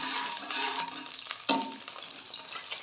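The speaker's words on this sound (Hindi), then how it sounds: "5 से 6 हरी मिर्चें डालेंगे, 2 मिनट के लिए भूनेंगे" Five or six green chillies frying in lightly heated oil: a soft, continuous sizzle with one sharp utensil clink midway, fairly quiet and close, no voices.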